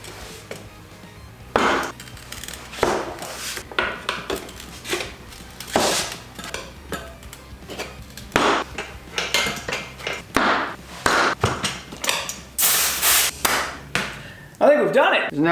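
Tire irons clank and scrape against a dirt bike rim while a tire bead is levered on, a Honda CRF300L being built for enduro; irregular metallic knocks and clicks, close and fairly loud, come in bursts with no talk.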